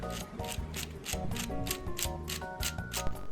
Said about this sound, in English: You can make a gearbox contraption, and when you spin one of them,